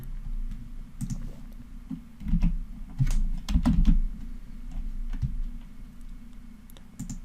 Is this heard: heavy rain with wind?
no